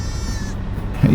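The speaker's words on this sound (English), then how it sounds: "Watch out for that goat." Goat bleating in the Farming Simulator 22 video game on a farm pasture, a single drawn-out wavering bleat heard close and loud, cut short at the end by a sudden louder noise.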